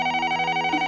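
Telephone ringing in the video game White Album 2, a steady electronic ring tone with rapid trilling pulses, loud and close with nothing else over it.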